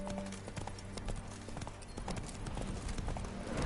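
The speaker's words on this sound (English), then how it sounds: "Spooking my horse." A horse in The Witcher 3 video game clops along with steady hoofbeats, loud and close, and a faint whinny hinting it is spooked.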